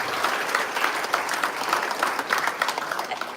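A crowd claps steadily at a Pride Month proclamation signing, a dense, lively round of applause that goes on without pause, fairly close and loud.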